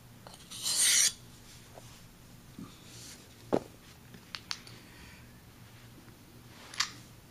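A straight shaving razor is honed on a stone, giving a short scraping rasp followed by scattered faint rubs and light clicks in a quiet setting.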